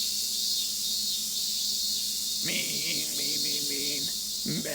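Voices imitate cicadas in the visual novel Narcissu, a buzzing, wavering drone over a constant hiss that swells in the second half.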